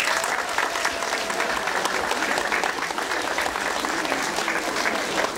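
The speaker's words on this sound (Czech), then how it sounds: "Tak ještě jednou všem zatleskejte." Steady, dense applause from a school audience at a town award ceremony, sustained evenly and fairly loud throughout, with no speech over it.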